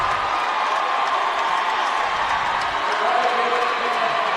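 Large crowd roaring and cheering at a high school basketball state championship game between Hayfield and Battlefield, a dense, steady wall of noise throughout.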